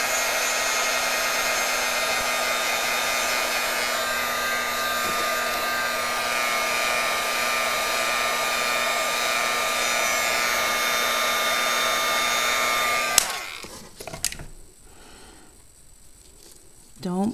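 A heat tool blows hot air steadily for about thirteen seconds to reheat a fine-detailed craft embellishment, a loud, even whooshing hum, then clicks off, leaving faint handling noises.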